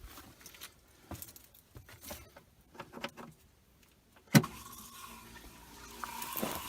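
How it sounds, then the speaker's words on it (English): After quiet small clicks and patters, a well pump's electric motor switches on with a sharp click, then settles into a steady whirring hum that swells slightly toward the end. "We will start the pump now."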